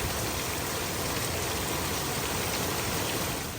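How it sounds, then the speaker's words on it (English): Heavy rain falls steadily on a yard, a dense, even hiss of water that holds at the same level throughout with no voices. "Why so much rain? Look at my yard. She is absolutely drenched."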